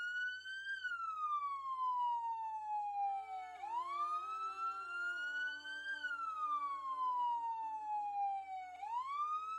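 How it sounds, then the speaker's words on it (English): A wailing siren sweeps slowly up and down in long cycles, loud and continuous, with no voices. "Sorry for the siren noises"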